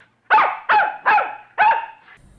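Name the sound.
dog barking louder, Freckles, story sound effect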